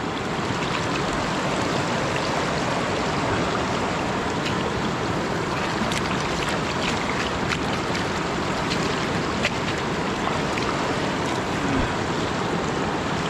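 River water flowing steadily in a rural province where people pan for gold, a constant broad rushing wash that stays even and fairly loud throughout, with no speech.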